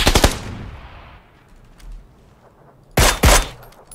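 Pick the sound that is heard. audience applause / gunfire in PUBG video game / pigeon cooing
gunfire in PUBG video game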